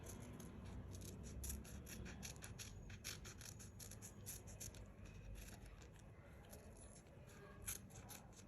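Steady run of close scissor snips and scraping as paper stickers are cut out by hand, repeated soft crisp cuts over a constant faint background, no talking.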